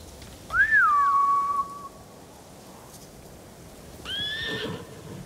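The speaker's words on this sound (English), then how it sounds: "Bastards scared off the horses." A horse whinnies loudly, then a second, shorter whinny follows a few seconds later over a quiet, steady background hiss, in the video game Ghost of Tsushima.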